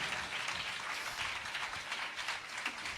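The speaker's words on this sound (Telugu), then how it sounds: "Come on, put your hands together and give glory to God" A church congregation clapping hands together to glorify God, a steady, dense wash of many hands applauding continuously with no clear pauses.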